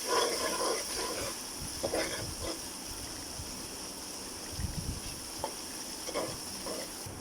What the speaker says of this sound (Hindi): इसमें मैं डालूँगी लहसुन अदरक का पेस्ट सिर्फ 1 चम्मच। इसको भी इसमें अच्छी तरह से फ्राई कर लेंगे।